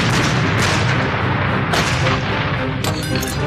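An artillery barrage from over 1,000 guns rumbles as a continuous, heavy roar with repeated sharp booming blasts layered over it, loud and dense throughout.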